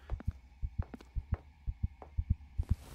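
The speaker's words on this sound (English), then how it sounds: "the heartbeat's getting real loud now" A heartbeat thumps in the Christmas indie horror game Crimson Snow, with quick, steady double beats pulsing low and close under a faint hum, with no talk.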